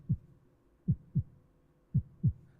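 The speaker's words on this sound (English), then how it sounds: "We say it's a heartbeat of an attack." Five low, thumping heartbeat pulses play as a game sound effect marking a two-star attack in Clash of Clans, evenly paired in a slow double rhythm, close and clean with nothing else behind them.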